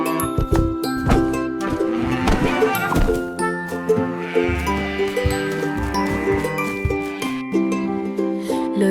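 Sheep bleat in a children's nursery rhyme song, their wavering cries repeating over bright musical accompaniment with tinkling sounds.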